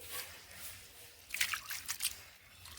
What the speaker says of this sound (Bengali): আবারও একবার জল দিয়ে ধুয়ে নিচ্ছি এইভাবে